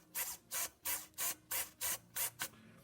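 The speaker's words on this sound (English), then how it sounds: "That is when you have a coarser gear set inside a servo." A stock servo with a coarse gear set in a TRX4M RC crawler whirs in eight short, even bursts with brief pauses between them, close and fairly quiet, with no talking.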